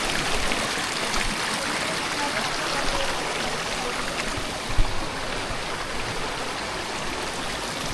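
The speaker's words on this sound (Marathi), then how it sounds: "खाली पाणी बघा मस्तपैकी वाहतंय." Water flows steadily in a forest stream along a jungle trek route in Maharashtra, a continuous broadband rushing and babbling that stays close and even throughout.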